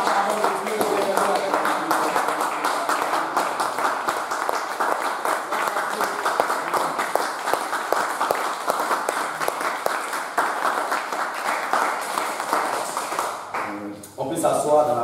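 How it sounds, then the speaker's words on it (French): A church congregation applauds steadily throughout, dense clapping blended with voices and music, loud and continuous, fading out near the end. "On acclame la parole de Dieu."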